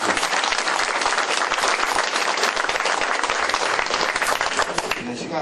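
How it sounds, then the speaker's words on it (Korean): An audience at a volunteer firefighters' women's unit commander inauguration claps steadily and densely, a full sustained round of applause that tapers slightly at the end. "한번 박수 한번"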